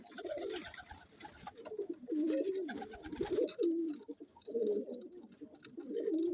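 A cock pigeon coos repeatedly in low, rolling phrases at close range, the calls coming in steady bursts with rustling and other bird sounds behind them.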